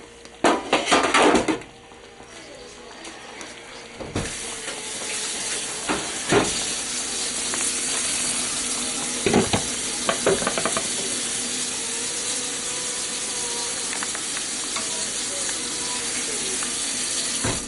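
Salisbury steak patties in gravy cook covered in a pan over a medium-low flame with a continuous soft hiss and steam, broken by a few clattering knocks of the lid and pan.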